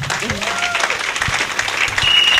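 A church congregation at a Hadassa meeting breaks into loud, sustained applause, dense clapping close by with a few voices mixed in.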